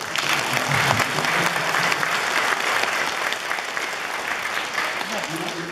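A concert audience at a Tatar music performance in Kolomna applauds with dense, sustained clapping, loud and continuous, with a voice faintly audible beneath the applause.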